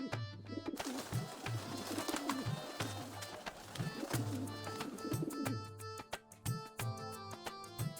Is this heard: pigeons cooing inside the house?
yes